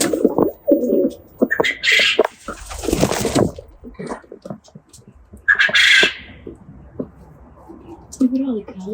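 Pet pigeons coo and squawk in short bursts around the yard, close by, while people talk over and between the bird calls.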